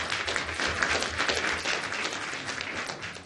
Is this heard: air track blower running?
no